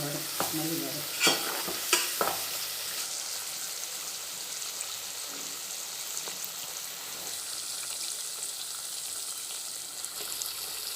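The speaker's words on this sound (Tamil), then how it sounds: "எண்ணெயிலேயே லெமன் வேகணும்." Lemon pieces frying in hot oil for pickle, a continuous crackling sizzle with a few sharp spatula knocks early on, then steady frying alone.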